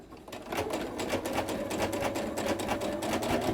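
A sewing machine runs an elastic triple stitch on fabric for pantaloons, a fast, even mechanical clatter of needle strokes repeating steadily throughout, close and moderately loud.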